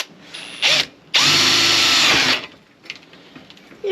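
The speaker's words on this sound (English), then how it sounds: "So I'm going to use a 6mm bit to drill a hole for the 6mm eyebolts" A power drill with a 6mm bit boring a hole in a caravan awning top cap: a short whirring burst, then a longer sustained grinding drill run, followed by quieter handling noises and a final spin-up.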